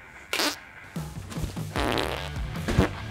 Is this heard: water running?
no